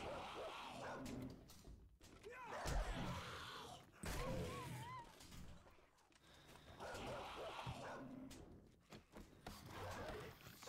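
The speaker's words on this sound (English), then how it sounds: "That's a dog." In 7 Days To Die, a dog barks and growls in repeated bursts, fairly close and faint, mixed with game noise throughout.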